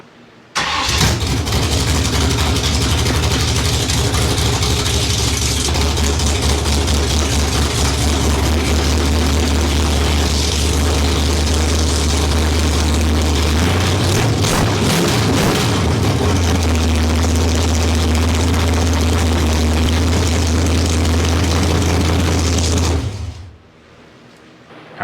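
A Ford Maverick V8 with a 4150-series 750 carburetor starts for the first time, cranking and catching, then idles loud and steady with a brief rev in the middle before cutting off.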